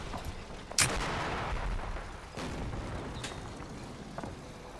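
Tank gun firing in the World War II game Combat Mission, set in Normandy: one sharp, loud blast followed by rumbling battle ambience and a few fainter distant shots.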